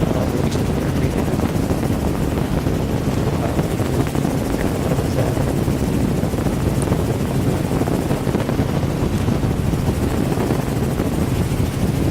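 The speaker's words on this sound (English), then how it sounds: "helicopter." A helicopter passes over coastal mud flats, a steady loud rotor and engine roar filling the whole stretch, mixed with heavy wind buffeting on the microphone and no pauses.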